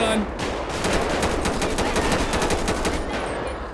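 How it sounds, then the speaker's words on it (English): Heavy automatic gunfire in a GTA 5 police shootout in a street, rapid loud bursts repeating throughout with no pauses. "shots are being fired everywhere"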